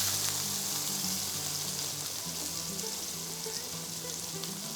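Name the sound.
pork searing and sizzling in a pan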